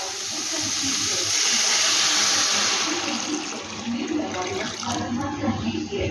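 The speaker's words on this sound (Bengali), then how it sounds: "এরপর আমি এই চিকেন স্টকটা দিয়ে দেব।" Chicken stock poured into a pot of hot and sour soup, a loud rushing splash of liquid that fades into bubbling and gentle stirring.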